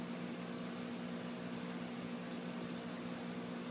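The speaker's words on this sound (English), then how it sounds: "You got one vacuum pump made from a scrap compressor." Steady mechanical drone of a homemade vacuum pump built from a scrap compressor, a continuous close hum with an even motor tone and no breaks, running alone without voices.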